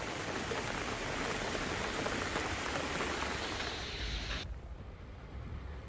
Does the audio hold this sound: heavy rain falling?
yes